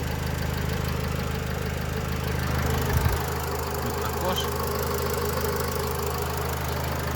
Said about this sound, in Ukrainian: Я думаю, що по роботі мотора одразу чути, як вона працює